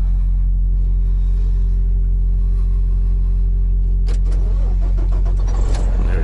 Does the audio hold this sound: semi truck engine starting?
yes